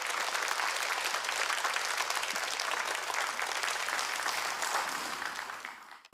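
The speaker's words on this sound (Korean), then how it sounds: "우리 목사님 등단하실 때 큰 박수로" Congregation in a Korean church claps loudly to welcome the pastor to the stage, a broad wash of applause filling the hall before tapering off at the end.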